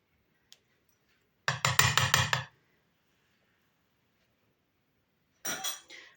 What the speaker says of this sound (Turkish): yemek kepçesi aldım elime. Şöyle yumurtalarımı kırmak için yer açıyorum.